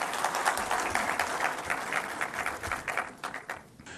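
A crowd at a political gathering with the Pakistani prime minister claps in a dense, sustained burst of applause that thins out toward the end.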